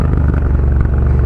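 Custom Triumph Bonneville bobber motorcycle idling with a deep, steady exhaust throb, loud and close, a continuous low rumble with no voices.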